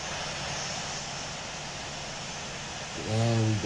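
A Southwest Boeing 737-700 jet in the Infinite Flight simulator taxis with a steady, even broadband engine roar that fills the whole clip, and near the end a louder tonal hum briefly swells over it.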